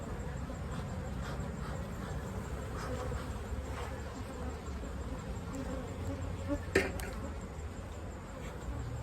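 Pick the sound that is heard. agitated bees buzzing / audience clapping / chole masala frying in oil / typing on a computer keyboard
agitated bees buzzing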